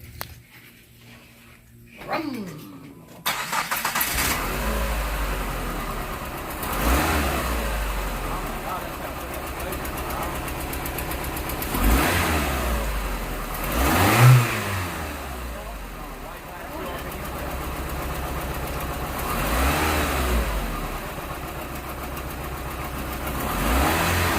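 A 2004 Chrysler PT Cruiser Limited Edition engine cranks and starts, then idles steadily up close with several revving surges, while people talk nearby and a dog can be heard.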